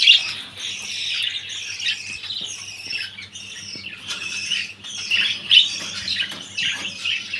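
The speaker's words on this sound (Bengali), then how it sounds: "আমার কাছে থেকে হলুদ পাখি জোড়া খুব সুন্দর লাগে" A pair of yellow pet birds in a cage chirping and squawking in bursts of high, scratchy calls, close by and fairly loud, rising and falling irregularly with a low hum underneath.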